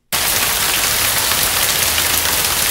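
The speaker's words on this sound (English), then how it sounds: "More rain." Steady, loud rain sound effect from the video game Payday 2, a dense continuous hiss of downpour on surfaces that starts abruptly after a brief silence and holds even throughout.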